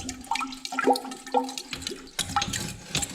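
Water sloshes and gurgles inside the detached exhaust headers of a flooded Yamaha FZ6 Fazer motorcycle, a close, splashy run of liquid movement and drips that surges in irregular bursts.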